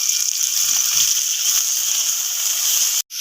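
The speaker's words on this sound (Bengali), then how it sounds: "মশলাটা ভালোভাবে ভাজা হয়ে গেছে।" A spice paste of ground ginger, cumin and panch phoron frying in oil in a pan gives a steady, loud, even sizzle, with a couple of soft stirring knocks early on and a brief break near the end.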